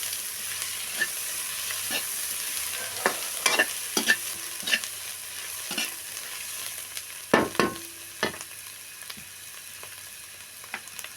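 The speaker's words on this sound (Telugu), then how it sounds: "బాగా కలుపుకుందామండి" Vegetables and ginger get stirred in a hot frying pan for prawn fried rice, a continuous soft sizzle broken by close, irregular knocks and scrapes of the ladle against the pan.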